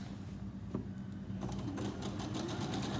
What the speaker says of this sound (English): It is better to do a double stitch wherever the loop is getting attached